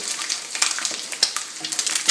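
Eggs fry in a pan on the stove for a spinach sauce dish, a dense, loud, close sizzle with crackling pops and spatters throughout.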